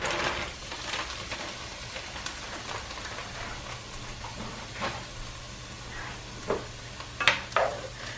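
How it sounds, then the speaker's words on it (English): Cooked broccoli tipped into a warm, dry non-stick pan over medium heat, giving a faint low sizzle with scattered soft knocks and a few sharper clatters toward the end. "So what we're gonna do is go ahead and get the broccoli into the pan."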